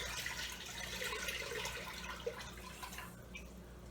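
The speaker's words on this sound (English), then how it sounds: "just pour your 4 cups of water in your pot" Four cups of water poured into a cooking pot for baked beans, a faint, steady splashing and gurgle close by that thins out near the end, with no talk.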